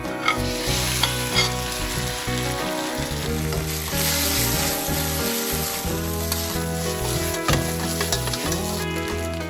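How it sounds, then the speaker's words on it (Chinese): Eggplant is stir-fried with scallion, ginger, garlic and green Sichuan pepper in a hot wok, producing loud continuous sizzling broken by rhythmic spatula scrapes and tosses, with background music playing. "先把葱、姜、蒜还有青花椒爆香， 爆出香味后，放入茄子"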